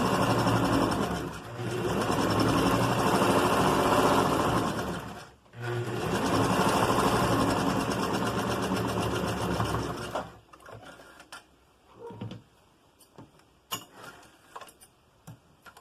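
A domestic sewing machine runs a straight seam on a dish towel at stitch setting 5 without backstitching, two long steady whirring bursts with a brief pause, then quiet handling clicks.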